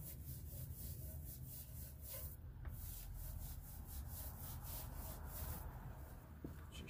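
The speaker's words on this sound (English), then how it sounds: "So with this brush, you can easily get to the barrel of the wheel like that." A detailing brush scrubs inside the barrel of a car wheel, reaching back between the wheel and the brake rotor. It makes a steady, close, continuous rubbing swish that runs the whole time with no talk over it.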